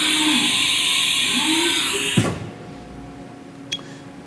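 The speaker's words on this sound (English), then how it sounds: "where you're simulating a tool change right now" A 2012 Haas TM-1P CNC mill with a 10-tool changer and 40-taper spindle running a tool change, a steady high electric whine that cuts off with a clunk, then a quieter hum and a brief click.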